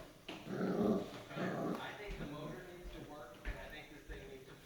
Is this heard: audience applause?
no